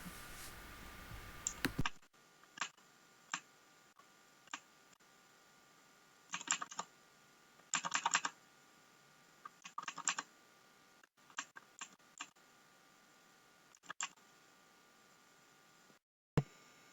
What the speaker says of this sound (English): These key switches recreate the experience of a typewriter.